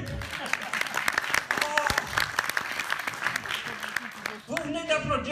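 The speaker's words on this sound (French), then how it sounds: "Vous venez d'applaudir la chorale de la maison de retraite Saint-Simon." An audience applauds the Saint-Simon retirement home choir during a comedy stage sketch: a dense, crackling round of clapping that fades as a voice starts speaking near the end.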